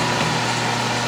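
A metal lathe takes final cutting passes while making a wiggler edge finder, a loud, steady motor whine with a continuous cutting hiss, close and without talk.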